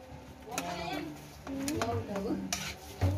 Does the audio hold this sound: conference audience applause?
no